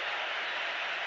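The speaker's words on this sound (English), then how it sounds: "Listen to the response of the England fans for Wayne Rooney" England football fans applauding Wayne Rooney at Croatia v England, Euro 2004: a dense, steady wash of crowd clapping, continuous and even throughout a short burst, with no individual voices standing out.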